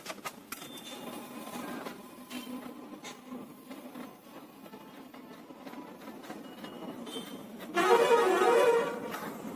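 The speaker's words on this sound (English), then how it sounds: "now the printer is receiving data which is displaying" Brother DCP-T300 ink tank printer running a test page, its feed motor whirring and shuttling in soft uneven bursts, then a louder, denser mechanical buzz near the end as the sheet is printed.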